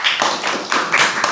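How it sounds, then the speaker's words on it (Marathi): Schoolchildren clap for a student at a school in Karjat, a quick, loud burst of group applause that pulses in a few close, uneven waves. "सगळ्यांनी याच्यासाठी टाळ्या"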